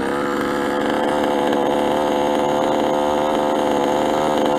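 Gas engine of a 5th-scale Associated RC truggy, still breaking in, runs at a high idle with a loud, steady, buzzing two-stroke drone close up.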